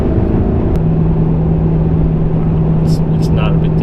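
A Ram 3500 pickup truck cruises in strong wind, its steady engine drone and road rumble mixed with wind buffeting throughout, while people talk inside the cab.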